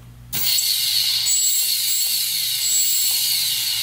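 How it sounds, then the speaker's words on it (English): RC servos driven by an ExpressLRS PWM receiver, a Happy Model EP2, whirring continuously with a high mechanical buzz that starts abruptly and holds steady, close and alone. "Servo action."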